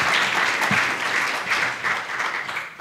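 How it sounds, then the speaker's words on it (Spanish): An audience at a World Tuberculosis Day ceremony applauds in a full, even round of clapping that holds steady throughout the short stretch. "Nuevamente un aplauso"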